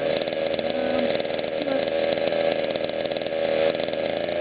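A small model engine runs steadily after a carburetor adjustment, giving a continuous, buzzing, high-revving whine at a constant pitch, loud and close throughout with no speech.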